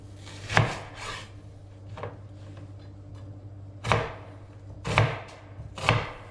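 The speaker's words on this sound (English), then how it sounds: "we will start with 2 shallots, which we are going to chop finely" Shallots chopped finely with a knife on a board, a handful of distinct crisp cuts spaced irregularly, one early, then three in quick succession near the end, close and clear over a quiet kitchen background.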